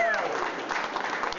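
A brief stretch of audience clapping at a museum ring ceremony honoring wrestling world and Olympic champions, moderately loud and continuous, with a voice trailing off at the start.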